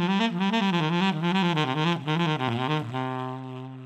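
Pentatonic scale sequence exercise on a melodic instrument, played descending in quick four-note groupings, a steady run of clear distinct notes that ends on a held tone.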